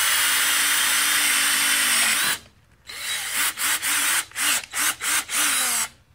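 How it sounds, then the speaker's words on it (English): A power drill with a hole saw grinds steadily through wood for a bird feeder, then stops and restarts in several short bursts, each rising and dipping in pitch. "you can do this with a paddle bit or you can do it with a hole saw"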